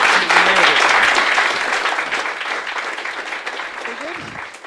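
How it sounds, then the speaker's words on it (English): A careers fair audience gives a loud round of applause that starts strong and slowly tapers over a few seconds, with a voice briefly speaking over the clapping near the end. "Massive round of applause, please."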